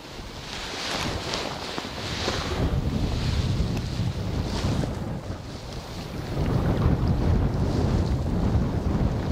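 Strong storm wind over a lake roars and buffets the microphone continuously, with gusts swelling louder toward the end and a faint splash of water underneath.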